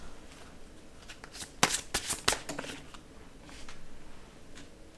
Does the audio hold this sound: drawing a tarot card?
yes